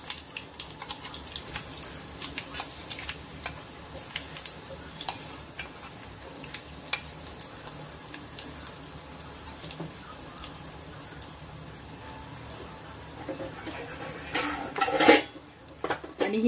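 Split lentils go into a sizzling tempering of hot oil and asafoetida in a pot and are stirred, a steady close frying hiss with scattered clinks and scrapes of a spoon against the metal pot, growing louder near the end.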